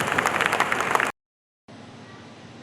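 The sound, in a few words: applause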